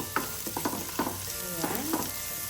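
An onion sizzles and crackles in a hot frying pan, with soft stirring scrapes and small pops rising over a steady frying hiss.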